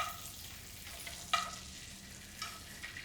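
Scallops frying in a pan give off a faint continuous sizzle, with a sharp clink of a utensil near the middle and a couple of softer knocks later, quiet and close.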